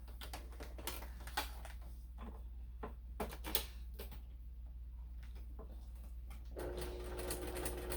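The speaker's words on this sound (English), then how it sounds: "I'm going to go ahead and stitch that." A sewing machine stitching a half-inch seam through vinyl on a handmade bag, steady motor hum with rapid ticking needle strokes throughout, quiet and close, no talk.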